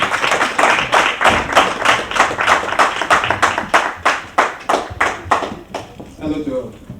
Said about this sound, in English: Please clap for Mr. Botu.